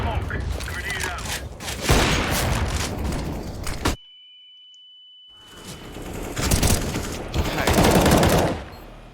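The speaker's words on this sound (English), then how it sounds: "Throwing a grenade." Video game gunfire from Black Ops 3 with a grenade in play: loud, dense bursts of automatic fire and blasts. The noise cuts to near silence for about two seconds with a thin tone, then the heavy firing resumes.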